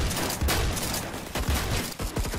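Shotgun blasts ring out in the Roblox shooter Phantom Forces, several loud, close shots in quick succession with short gaps between them, layered over dense game noise.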